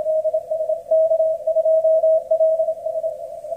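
Morse code CW signal received on an Icom IC-7300 radio, a steady pure tone holding clear and continuous above a faint background hiss.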